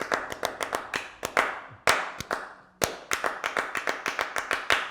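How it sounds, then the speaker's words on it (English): A single person claps a syncopated jazz rhythm with bare hands, sharp close claps in uneven groupings with short pauses between phrases, each ringing briefly in the room. "I might just clap it first."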